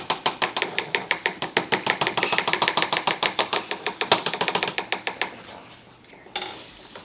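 An herbal remedy mixture with added water is stirred briskly in a container, making a rapid, even train of close scraping clicks for about five seconds before slowing and stopping.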